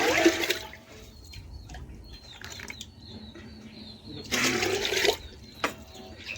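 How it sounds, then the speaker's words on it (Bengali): Water is poured into a pot for cooking rice in two short splashing bursts, one at the start and one a few seconds later, with quiet room noise between them. "তার জন্য প্রথমে আমি জল দিয়ে দিচ্ছি"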